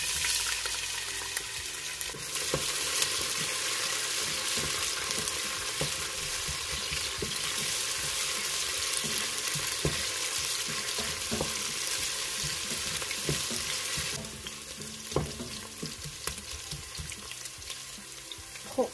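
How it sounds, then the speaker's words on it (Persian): Onion fries in hot oil in a cooking pot with a steady, close sizzle and occasional light clicks of stirring, continuing without talk. "به این اندازه روغن رو ریختم داخل قابلمه، میذارم یه مقداری داغ بشه. پیاز رو بهش اضافه میکنم."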